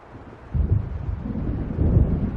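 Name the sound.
thunderstorm and wind from the video game Alan Wake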